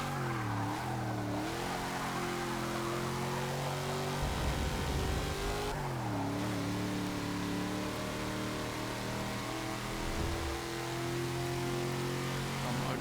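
Muscle car racing in Forza Motorsport 6, its engine a loud, sustained drone that climbs in pitch through the gears, dips briefly at shifts, then rises again, heard alone throughout.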